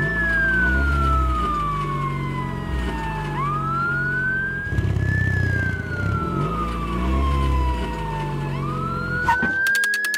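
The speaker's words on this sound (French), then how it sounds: "il y a un camion de pompiers au carrefour. Il a allumé ses gyrophares et se précipite pour aider." A fire truck siren wails in long rising and falling sweeps over a steady engine rumble at a busy intersection, loud and close, repeating its slow cycle.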